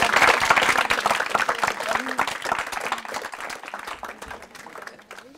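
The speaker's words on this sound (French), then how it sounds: "On peut peut-être vous applaudir." A crowd applauds with dense, steady clapping that gradually fades, with a voice speaking faintly underneath.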